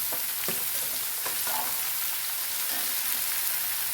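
Onion, tomato and green chilli stirred in a hot pan for a prawn roast, a constant close sizzle with a few soft scrapes and knocks of the spoon against the pan.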